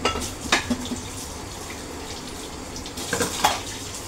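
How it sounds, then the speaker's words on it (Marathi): Dishes are scrubbed under a running tap in a home kitchen, with a steady close hiss of flowing water and a few clinks and splashes of utensils. No one speaks. "पटपट आता भांडी घासून घेते"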